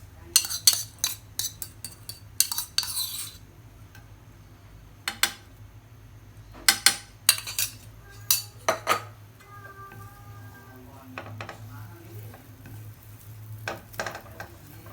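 Garlic sautéed in melted butter in a pan, with bursts of utensil clatter and scraping against the pan, soft sizzling between them, and brief pauses of quiet.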